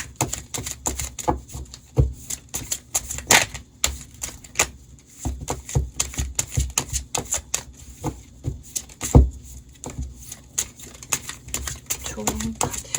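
Tarot cards are shuffled and drawn, producing a rapid, irregular run of crisp slaps, flicks and taps, close and fairly loud, with a brief quieter pause partway through and no talk.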